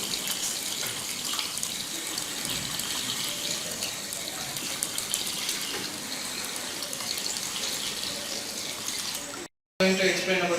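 A motor-driven pump moves water in a solar-powered autonomous farming system, giving a steady loud hiss of flowing water throughout, then a brief cutoff near the end before the sound resumes.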